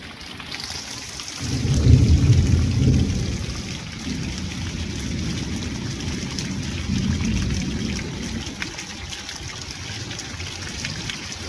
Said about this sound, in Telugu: ఉరుములు మెరుపులతోనే వచ్చేస్తుంది అనమాట